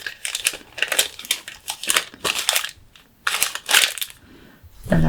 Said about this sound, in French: Donc je reprends mon papier cuisson.